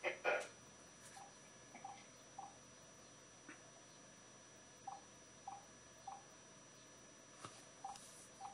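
A phone's dialing tones beep in a run of short, evenly paced pulses, faint under a steady background hiss, with a louder burst of noise at the start.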